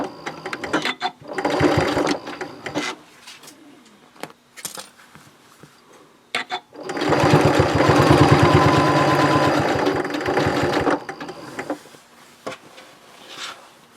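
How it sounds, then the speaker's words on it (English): A sewing machine top stitching a reversible shopping tote runs in short bursts and then in one long steady run, a close, loud, rhythmic whirr with quiet handling between. "Now we'll do our top stitching and the bag will be finished."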